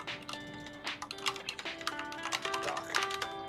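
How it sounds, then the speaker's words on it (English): Keys clatter on a computer keyboard in irregular quick bursts of soft taps, fairly close and moderately quiet, with steady tones running faintly underneath. "Sorry about my typing."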